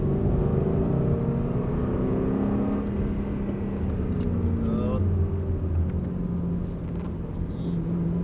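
Inside a car, the engine rumbles steadily and its note slowly rises and falls as it accelerates while overtaking, with a person talking over it throughout.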